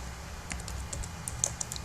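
Soft, quick keystrokes on a computer keyboard while writing text for PowerPoint 2013 slides, an irregular light clicking over a faint background hum, with no speech.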